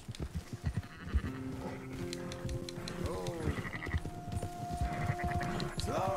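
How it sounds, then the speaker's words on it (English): Sheep bleating in the video game Red Dead Redemption 2 while a flock is herded on horseback, several wavering bleats over clopping hooves and game ambience, with a voice talking at times. "Now, why am I herding sheep,"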